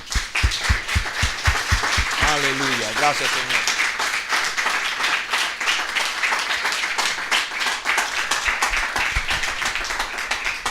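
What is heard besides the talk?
congregation applauding in church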